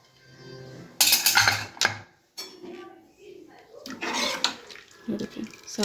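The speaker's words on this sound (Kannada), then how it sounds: "ಕುಕ್ಕರ್ ಮುಚ್ಚಳ ತೆಗಿತಾ ಇದ್ದೀನಿ." A pressure cooker lid being opened after the whistles, with several metallic clanks and scrapes of pot and lid close by, mixed with brief speech.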